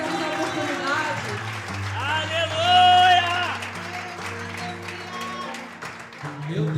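A congregation applauds at a church revival's ninth-anniversary celebration. The clapping is mixed with sustained singing or music and a speaking voice, and it swells briefly near the middle.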